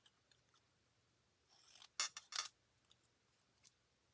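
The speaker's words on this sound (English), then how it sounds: "I'm just going to snip that off." Scissors snipping off a piece of folded paper during card crafting: a few quick, crisp close cuts clustered together, otherwise quiet with no talking.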